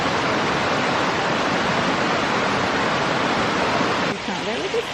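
An indoor shower water feature at the Eden Project sends out a steady, dense rush of falling water, loud and close, which drops off sharply near the end, leaving quieter room sound.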